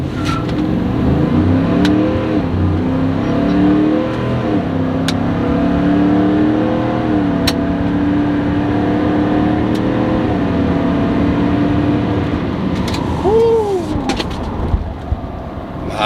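A stock Ford F-150 V8 with a 10-speed automatic, rear-wheel drive, pulls hard on a dyno, its loud engine drone climbing steadily through gears with brief shift dips, ending in a sweeping rev change near the end.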